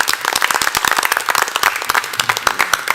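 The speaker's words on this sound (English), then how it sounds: "Let's give those guys a round of applause." Dense, continuous clapping from a room of people at a fire and rescue commission meeting, a round of applause for the fire chief, with quick sharp hand claps packed closely together and steady throughout.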